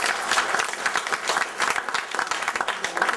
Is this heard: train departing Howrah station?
no